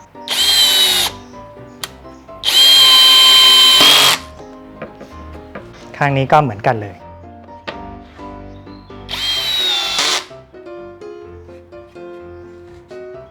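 Bursts of a power drill boring into pine wood, three long whirring runs with brief handling clatter between, close and loud, with a short spoken remark near the end.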